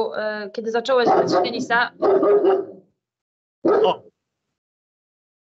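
A dog barks at an indoor table-talk recording, a couple of sharp barks cutting in loudly over and between a woman's speech, followed by a short exclamation.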